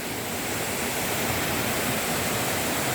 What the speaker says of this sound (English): I think this could be the #1 waterfall in Trinidad and Tobago.